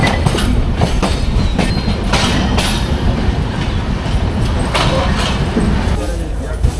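Aboard the Ekota Express running at speed toward Dhaka's Kamalapur station, a loud, continuous rumble carries rhythmic clicks from the wheels on the track, with a voice speaking over it.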